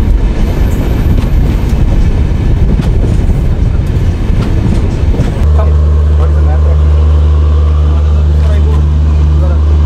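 The Ramayan Express rolling along the railway, a loud, close continuous rumble with rattling that settles into a steady drone partway through.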